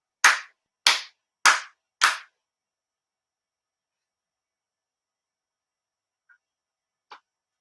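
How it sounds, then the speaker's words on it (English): Four deliberate ritual hand claps at a Shinto prayer gathering, evenly spaced and crisp in a quiet room, followed by silence and a couple of faint small ticks. "I did 4 sincere claps."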